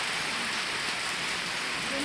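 Steady rain pouring down outdoors, a dense, even hiss that stays loud and constant throughout with no breaks.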